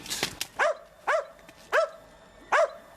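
A dog barks four times at an even pace, each bark a sharp, clear burst with quiet gaps between, heard after a brief noisy opening in a tense outdoor scene with no talk over it.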